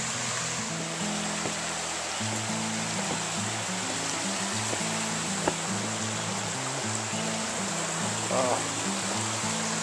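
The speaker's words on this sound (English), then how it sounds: "This is a beautiful little creek here. It's Hemlock Creek, and then it's got little rapids here." Hemlock Creek, a small creek with little rapids, rushes steadily as a broad hiss, with a low hum and occasional faint clicks throughout.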